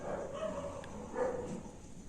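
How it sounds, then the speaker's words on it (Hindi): Dogs bark outdoors on a rainy night, a few yips and barks coming from a moderate distance over a steady rain-like background hiss, with no talking. "बेचारे भौंक रहे हैं।"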